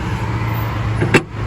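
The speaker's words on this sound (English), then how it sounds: "Love the window crank" The manual window crank of a 1962 Chevrolet Bel Air wagon gives one short, sharp turning sound over a low steady background hum.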